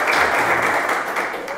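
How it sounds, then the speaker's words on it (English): A crowd applauding, a dense, steady patter of many hands clapping at moderate loudness throughout. "big round of applause for our guest today"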